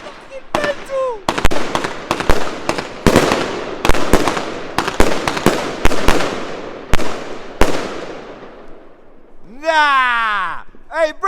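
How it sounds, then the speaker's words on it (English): Fireworks from Fab Fireworks burst on Bonfire Night in a rapid volley of sharp bangs and crackles, ending with a whistling, screaming rocket effect near the close; loud and close, with excited voices around. "Where you get those bad boy fireworks from there?"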